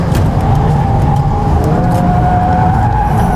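A VW Golf R Mk8 brakes hard with tire squeal and skidding over a steady engine roar, loud and close throughout.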